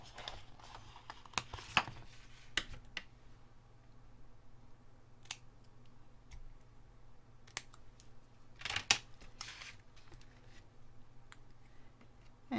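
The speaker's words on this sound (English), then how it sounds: "So I'm just going to cut that out." Scissors cut a paper word out for a scrapbook layout, giving a few quiet, close snips and small paper rustles spread across an otherwise hushed background.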